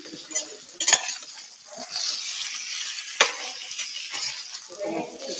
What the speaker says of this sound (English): They're already starting to brown a little bit just because of this butter.